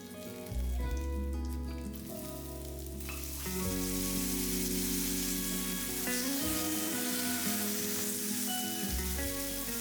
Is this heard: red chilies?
yes